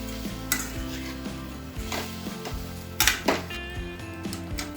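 Coconut curry is stirred in a pan with turmeric and salt mixed in, giving a steady sizzle with clanks from a utensil scraping the pan, plus a couple of louder knocks near the end over background music.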